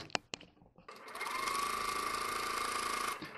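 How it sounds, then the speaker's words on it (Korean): A sewing machine runs a long continuous straight seam down the center back of a Chanel-style jacket, starting after a couple of sharp clicks and holding a steady, close, even whir for about two seconds before stopping. "뒷중심을 쭉 박아 주시는 거예요."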